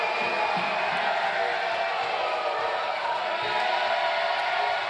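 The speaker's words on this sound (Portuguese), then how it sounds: "E agora a galera grita Geno." At a CTNV 5 mixed martial arts bout in Viamão, Brazil, the crowd chants fighter Felipe Gheno's name, blending into a steady, loud wash of voices that runs unbroken through the whole stretch.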